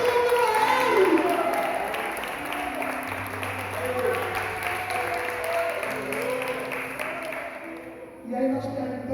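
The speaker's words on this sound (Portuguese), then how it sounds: "renda palmas ao Messias e dê aplauso de júbilo a Ele" A church congregation applauds, with dense clapping and some cheering swelling at first, then thinning while a voice and background music carry on underneath, before a brief renewed burst near the end.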